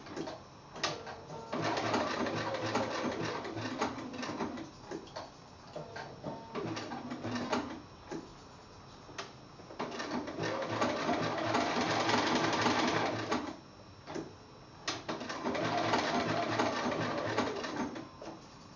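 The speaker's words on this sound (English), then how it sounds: "leave the needle down, move the fabric, do a stitch in at point, needle down, move the fabric" A sewing machine stitches fabric around a small, tight quilt block shape. It runs in bursts of rapid stitching broken by short pauses where the needle stays down and the fabric is turned, with no talk.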